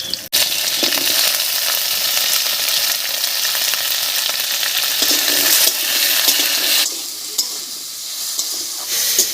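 Potato pieces and chopped tomato fry in a pan with a loud, continuous close sizzle and occasional stirring scrapes, opening with a sharp clatter as the potatoes drop in and easing slightly near the end, no voices.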